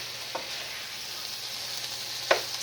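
Taco cheese and tortilla chips sizzle steadily in a hot pan with a soft, constant crackle, broken by a couple of faint clicks.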